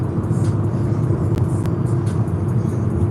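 Steady road traffic rumbles past in a continuous wash of car engine and tire noise, with a couple of brief sharp clicks near the middle and no voices.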